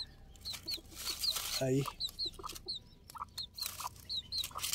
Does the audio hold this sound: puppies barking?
no